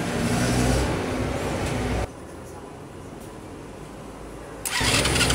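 A carbureted motorcycle engine cranks over in a start attempt, a loud rough churning burst that stops abruptly, followed by a quiet pause and then another burst of cranking.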